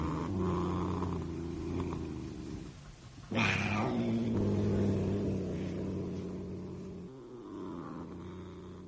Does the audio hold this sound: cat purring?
yes